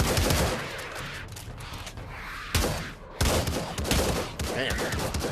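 Shotgun blasts in the VR zombie shooter Pavlov come in loud, broadband bursts with short gaps, over a noisy game background.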